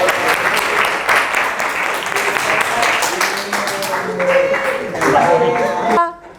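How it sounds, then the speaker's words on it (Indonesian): A classroom of students claps together in sustained applause, loud and dense throughout, ending abruptly near the end as voices drift over the last moments. "Beri aplaus."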